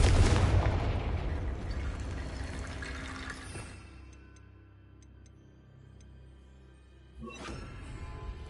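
Confringo spell explosion in Hogwarts Legacy, a loud close blast at the start that rumbles and fades over several seconds, then a second, softer burst of impact noise near the end.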